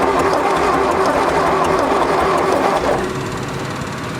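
Loud, close mechanical churning of an old tractor engine being cranked, dense and steady, then dropping slightly in intensity near the end as it catches or eases off.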